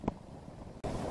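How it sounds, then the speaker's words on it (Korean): Strong wind buffets a microphone outdoors at a fishing spot, a steady low rumbling roar with a brief gust burst at the start and a short dip before it resumes loudly. "바람이 너무 온다"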